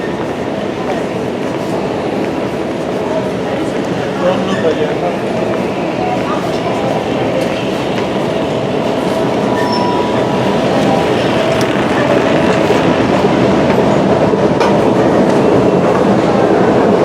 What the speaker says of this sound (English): I'm going to catch a Shenfield train